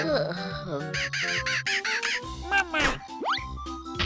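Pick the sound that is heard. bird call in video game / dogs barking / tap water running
bird call in video game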